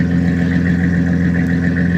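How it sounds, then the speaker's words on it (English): A 2003 Chevy 1500 pickup truck with a Flowmaster exhaust idling steadily with a deep, throaty exhaust rumble, close by and constant. "come back here so you can hear that Flowmaster exhaust."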